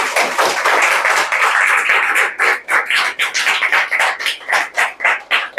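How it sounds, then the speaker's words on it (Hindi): Loud audience applause and clapping at an open mic poetry event, a dense burst of many hands that breaks into separate rhythmic claps toward the end, with no talking over it. "एक बार जोरदार तालियां हो जाए।"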